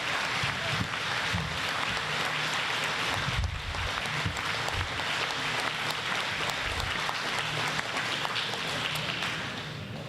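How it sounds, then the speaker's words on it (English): An audience applauds steadily for about ten seconds at a Vietnam veterans lapel pinning ceremony, a sustained, loud, dense round of clapping with no one speaking. "Let's give them a big warm of applause."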